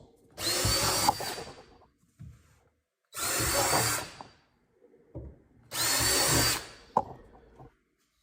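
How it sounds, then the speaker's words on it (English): A power drill with a 9/32 bit whirs through pre-drilled holes in three bursts of a few seconds each, separated by short pauses with faint handling noises. "grab your 9/32 drill bit, line it up in your pre-drilled holes already, drill out the holes"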